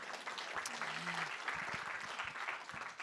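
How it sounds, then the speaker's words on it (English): Dense, steady applause from a festival audience at a post-screening Q&A, a soft continuous wash of many hands clapping at a moderate distance, with a brief murmur of voices beneath. "a round of applause for those"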